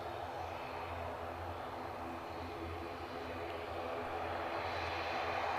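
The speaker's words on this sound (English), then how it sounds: "ATR in the background, rather sounds like it's somebody's big lawnmower." Far off at an airport, an ATR turboprop's engines drone steadily in the background with a constant low hum and broadband roar, faint and unchanging, with no talking.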